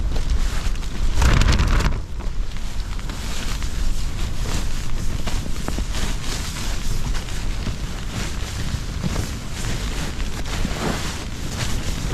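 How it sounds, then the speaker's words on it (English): Strong wind from Storm Debi roars steadily and buffets the microphone with low rumbling gusts while camping, loud and continuous with no voices. "it is windy"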